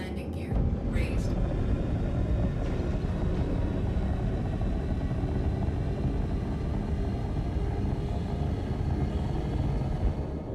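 A spaceship's engines power up and lift off in the space game Star Citizen, a dense, constant roar and rumble holding steady from start to finish, with a synthetic ship voice announcing status over it.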